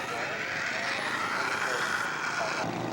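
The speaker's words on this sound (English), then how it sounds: "Eddie Newman taxiing out for his second flight on Saturday." Scale model Kawasaki Tony warbird taxiing out at a scale aircraft show, its engine giving a steady, moderately loud drone that stays even throughout under a noisy open-air background.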